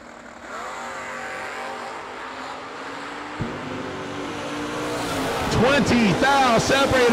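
Drag racing cars build revs on the line, then launch with sharply rising, overlapping engine wails and tire noise that swell louder toward the end, while an announcer talks over them.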